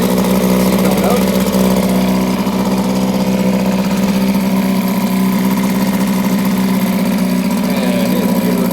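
A 1962 Mercury 6 HP outboard motor idles steadily after starting, with a constant mid-pitched engine drone and water pumping through the exhaust, close and loud throughout.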